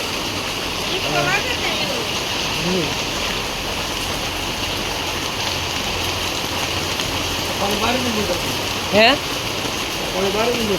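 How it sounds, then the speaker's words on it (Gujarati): Steady, dense heavy rain pouring down in a village, heard close and continuous, with voices talking over it now and then. "વરસાદ તો વધતો જાય છે અને નામ લેતો નથી બંધ થવાનું"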